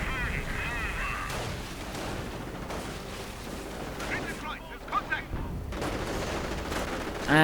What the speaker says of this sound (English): And another registered artillery barrage going in.